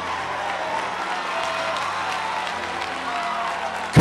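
Church congregation clapping and shouting in praise, a steady crowd roar with scattered whoops and voices mixed in throughout, swelling loud right at the end.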